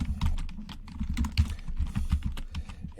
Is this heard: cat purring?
no